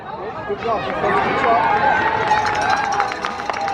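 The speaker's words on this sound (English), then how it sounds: "the crowd is cheering" Crowd cheering at a semi-pro football championship game after a possible touchdown, a sustained roar of many voices rising and holding, with a commentator talking over it.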